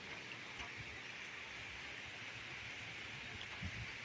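Rain pouring down outdoors while fishing for crappie, a steady broadband hiss of downpour close around, with a few soft bumps and no voices.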